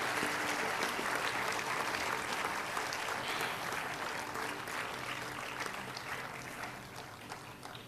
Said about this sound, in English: Ladies and gentlemen, a round of applause for Dr. Iqbal Ahmed.